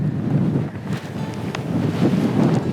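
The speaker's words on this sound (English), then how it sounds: "It's windy. It's very windy." Strong gusting wind in Arizona's Petrified Forest badlands buffets the microphone in a loud, continuous roar that surges and eases, with no voices.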